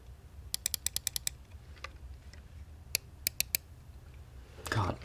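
Keystrokes on a Keychron K6 keyboard come as sharp clicky taps, first a quick burst of about seven, then scattered single presses and another short cluster, over a low steady background hum with a brief rustle at the end.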